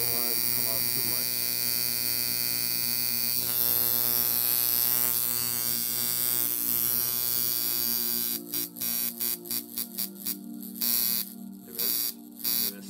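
A tattoo machine runs steadily with its needle buzzing in a continuous electric whine, then stutters into uneven, choppy on-off bursts toward the end.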